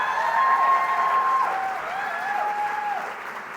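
Sustained audience applause at the RITA Awards ceremony, a dense steady clatter of many hands clapping in a large hall, under a held musical tone.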